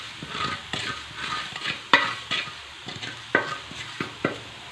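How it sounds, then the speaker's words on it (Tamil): Dry ingredients roast and get stirred in a hot iron pan, with a soft steady sizzle broken by sharp scraping clinks of a spoon against the metal every second or so. "இரும்பு எப்பயுமே வந்து ஹீட் ஆகிடுச்சுன்னா உடனே வறுத்துரும்."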